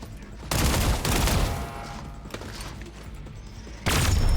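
Video game weapon gunfire arrives in two loud bursts of rapid shots, separated by a quieter stretch of low rumble and clatter.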